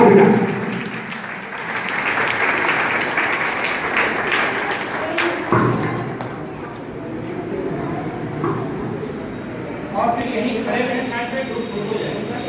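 Audience applause for a first-prize winner at a school cultural event, a steady round of clapping filling the hall with voices mixed in, fading and rising again toward the end.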